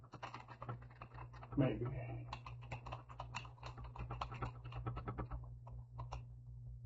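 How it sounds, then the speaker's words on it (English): Keys clatter on a computer keyboard in quick, uneven bursts while someone talks over them, the tapping steady and close throughout. "I'm going to type the school name."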